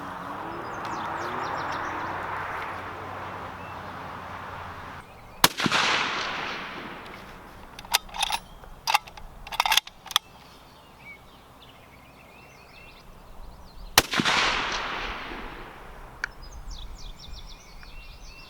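Three sharp rifle shots fired at a target outdoors, the first near 5.5 s and the last near 14 s, with scattered faint clicks between and a steady background hiss; no talking.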